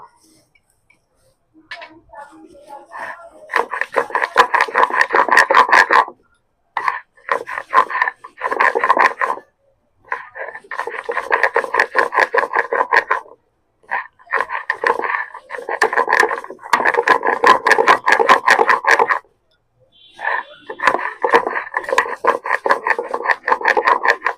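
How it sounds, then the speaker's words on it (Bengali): Chopped tomatoes are ground into a paste for masala paneer, with repeated rhythmic rasping scrapes in bursts of a few seconds separated by short pauses, loud and close. "এইবারে আমি টমেটো যে কুচি করে রেখেছিলাম সেগুলোকে আমি বেটে নেব।"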